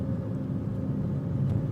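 Low, steady engine rumble of heavy trucks idling and crawling in traffic around a car, a continuous close drone with no voices.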